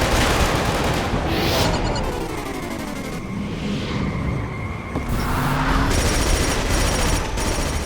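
Gunfire in the shooter video game Killzone 2 comes as sustained bursts of shots mixed with loud battlefield effects, at a dense, continuous level throughout.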